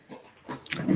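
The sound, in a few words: dogs barking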